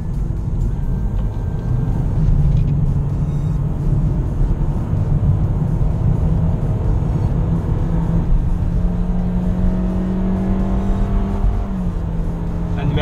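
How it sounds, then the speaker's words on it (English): Scion iM cruising at speed with a steady, smooth drone of engine and road noise inside the cabin and a gentle pitch rise toward the end, with little else heard. "So the IM at speed, very smooth."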